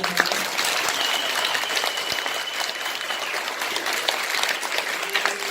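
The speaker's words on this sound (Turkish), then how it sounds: "Bir alkış istiyorum." Dense, steady audience applause fills a hall after a children's year-end stage show, a continuous wash of many clapping hands at even loudness throughout.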